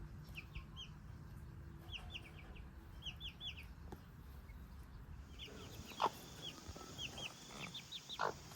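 Young chickens peep and cluck in short chirpy bursts at moderate distance over a quiet outdoor hum, with a couple of louder calls later.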